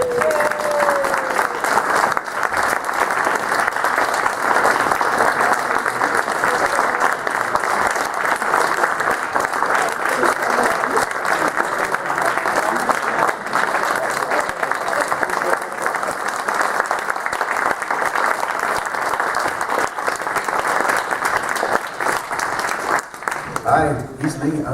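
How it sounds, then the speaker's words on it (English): A convention hall crowd at Anthrocon 2014 applauds Jim Cummings and Lee Tokar in a long, sustained wash of clapping, with faint voices mixed in, before it tapers off at the end. "A round of applause to Mr. Jim Cummings and Lee Tokar"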